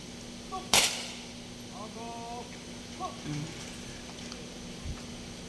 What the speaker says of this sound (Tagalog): So mo ni sila ang 21 gun salute.